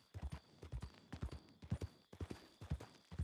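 Steady clip-clop of horse hooves in the Western video game Red Dead Redemption, quick regular hoofbeats close up and alone, no talk.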